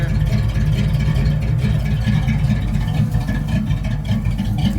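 A Ford Ranger with a V8 engine runs close by with a deep, loud rumble, pulsing and revving slightly in a steady throaty drone that lasts the whole stretch, with no one speaking.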